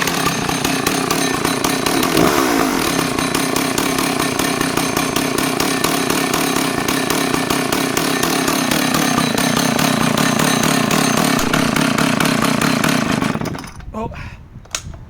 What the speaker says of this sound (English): She's an absolute brute, and starting, I don't think we need throttle lock.